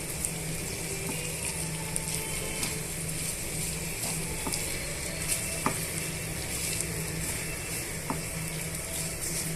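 Vermicelli being stirred and mixed in a frying pan while making an egg semiya tiffin, a steady sizzle with scattered light scraping ticks of the spoon across the pan, alone without talk.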